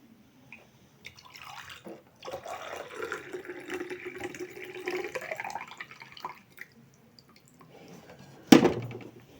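Water poured into a glass cup holding sediment: a steady liquid trickle runs for several seconds, pausing now and then, and ends in a sharp close clink.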